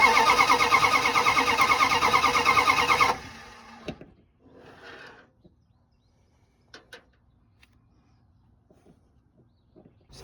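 A Dodge Dart engine cranks loudly and steadily for about three seconds, then cuts out without catching; afterward only faint clicks, brief mechanical noises and a distant bird remain in a quiet setting.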